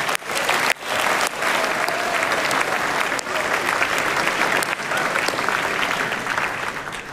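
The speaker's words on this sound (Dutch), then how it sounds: "Een hartelijk applaus voor hun." Sustained audience applause fills a congress hall, dense and steady for about seven seconds with a brief dip near the start, no voices rising above the clapping.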